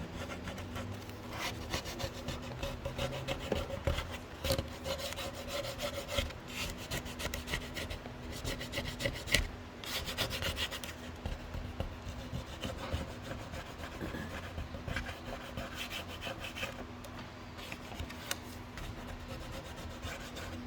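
Sanding by hand on a wood floor or piece of furniture during a repair, a steady rasping rub that continues for about twenty seconds, fairly close and alone with no talk.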